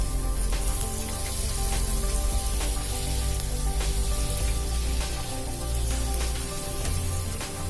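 Maida poori deep-frying in hot oil, a steady dense sizzle and bubbling that runs loud and continuous throughout, close up with no talk.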